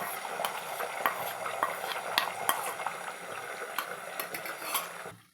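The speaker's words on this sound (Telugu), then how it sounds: "నూనె వేడయ్యాక బీట్ చేసుకున్న ఎగ్స్ని ఇందులో వేసుకొని ఆమ్లెట్స్ లాగా వేసుకోవాలి" Beaten eggs spread as an omelette in hot oil crackle and sizzle nearby, with the sharp ticks and light clinks of a utensil on the pan scattered through the steady fry, fading at the end.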